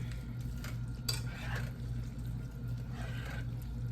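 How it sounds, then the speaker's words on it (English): Spoon stirring veggie pasta in a metal pot, soft scraping and clinking strokes with a faint wet simmer, quiet and close, no talking. "Then I'm gonna take this and stir this up."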